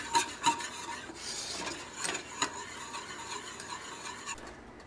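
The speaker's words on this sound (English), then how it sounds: "I'm letting the cheese melt in the sauce. Just kind of stirring that around good." Cheese melting into a white sauce is stirred in a pan on a switched-off stove, giving soft rasping, rubbing strokes with a few sharper knocks, quiet and close.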